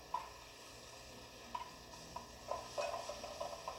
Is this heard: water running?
no